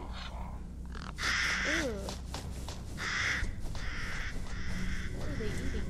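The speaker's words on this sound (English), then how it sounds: "Those crows are so creepy." Crows caw in a creepy video game scene, a few harsh repeated calls at mid distance over a low ambient drone, with a person briefly speaking over it.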